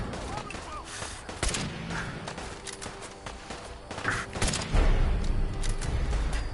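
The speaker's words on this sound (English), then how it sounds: "Stop shooting at me." Hostile gunfire in a shooter video game, sharp bursts of shots cracking at irregular intervals with heavier thumps later, mixed with a voice talking over the action.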